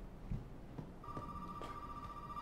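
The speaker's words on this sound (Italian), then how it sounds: "Oddio, c'è un telefono che squilla." A telephone rings in the video game Resident Evil 7, a steady electronic tone starting after a couple of soft thumps and continuing quietly under a low ambient hum.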